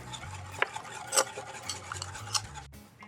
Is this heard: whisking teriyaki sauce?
yes